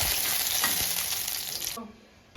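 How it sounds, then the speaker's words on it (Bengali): Pabda fish frying in hot oil in a pan, a loud, steady, dense sizzle that drops away abruptly near the end. "মাছগুলো ভাজা হয়ে এসেছে"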